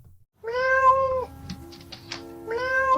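A cat meows twice, a long, loud, drawn-out cry at the start and another beginning near the end, with a quieter stretch of faint noises between them.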